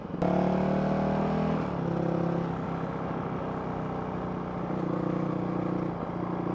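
A Honda CRF 450 RL motorcycle engine revs up loud and close, its harmonic pitch rising in steps as it accelerates through the gears in a stock setup.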